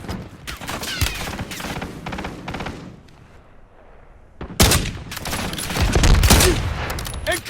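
Call of Duty Warzone battle royale gunfire on Verdansk: bursts of rapid shots and heavier blasts fill the clip, dipping briefly in the middle before a loud volley returns, with faint game voice lines underneath.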